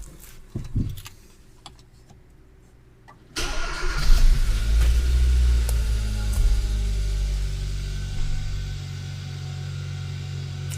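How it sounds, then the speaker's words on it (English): A 2013 Hyundai Veloster with a stalling fault and crankshaft codes is started: quiet clicks first, then the engine cranks and catches about three seconds in and settles into a steady, loud idle. "let's try to start this car"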